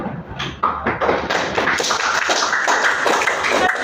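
Hands clapping in a series of sharp, uneven slaps, fairly close, with a few heavier thumps mixed in over a short stretch.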